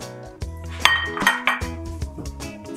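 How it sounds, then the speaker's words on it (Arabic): A spoon stirs sugar and water in a pot for dessert syrup, scraping and clinking against the metal in quick, close, irregular strokes. "وراح اخلط الشكر ويا الماي حتى يذوب"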